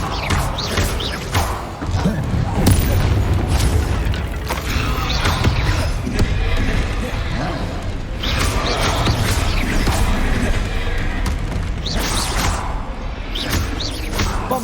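Repeated Bombarda blasts from Hogwarts Legacy spellcasting, a dense, loud run of thumping explosions and crashing impacts layered with whooshes over a continuous busy game soundscape.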